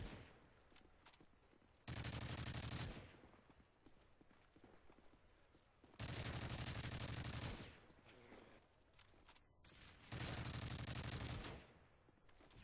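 Bursts of automatic gunfire striking a riot shield in Call of Duty: Modern Warfare 3, three loud sustained volleys of about a second each separated by quieter gaps, close and harsh.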